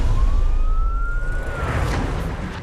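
An Australian ambulance siren gives a single loud, steady wailing tone that slowly rises in pitch, with no voices.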